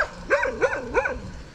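A dog barks three times in quick succession, fairly close and distinct, with a rising-falling yelping tone over quiet outdoor background.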